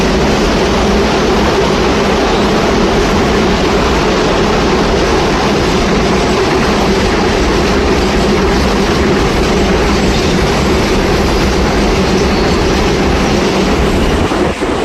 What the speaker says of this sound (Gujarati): જો ટ્રેન જાય છે.